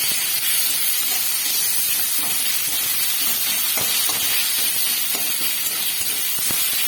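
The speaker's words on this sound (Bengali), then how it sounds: "এদিকে আমি ভালোভাবে নাড়াচাড়া করে নিচ্ছি" Chopped onion, slit green chillies and ginger-garlic paste fry in a pan, giving a loud, steady hiss broken by scattered scrapes and clicks from stirring, with no voices.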